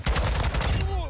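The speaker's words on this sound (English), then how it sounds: "I thought it was my teammate shooting over because he was missing all his shots." Rapid bursts of video game gunfire from Modern Warfare 2 ranked play, a dense, loud string of overlapping shots with a brief tonal sound near the end.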